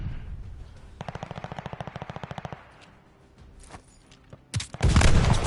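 Gunfire in an online competitive video game match, with a rapid burst of about fifteen evenly spaced shots followed by quiet, then a couple of heavier, louder single shots near the end, with no talking.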